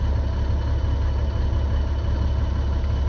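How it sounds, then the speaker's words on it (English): A Maxxforce diesel engine in a 2012 International bus idles steadily with a loud, deep, even rumble and constant drone throughout, no other sounds on top. "we got a maxxforce engine in a 2012 international bus"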